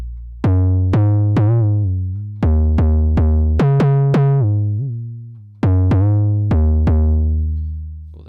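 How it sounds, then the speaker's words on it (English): An 808-style bass synthesized in Ableton Operator with glide enabled plays a run of deep, sustained notes that slide smoothly between pitches, each decaying slowly, loud and alone with no talking. "That's basically your Operator 808 bass all done"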